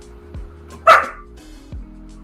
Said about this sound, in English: Don't, God damn it, dog, do not start.